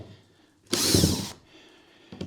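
A power drill drives screws into a coffee table under construction in one loud whirring burst of just over half a second, with quiet room tone before and after.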